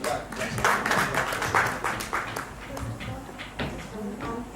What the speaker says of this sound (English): please give Tulika a big round of applause